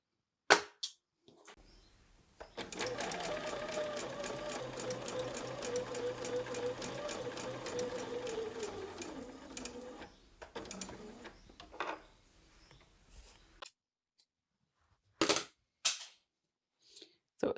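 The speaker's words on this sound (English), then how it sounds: "I go just over to my machine, finish that seam and come back." A sewing machine runs in one continuous burst of rapid, rhythmic stitching for several seconds while finishing a quilt binding seam, bracketed by sharp clicks and handling knocks before and after, with no talk.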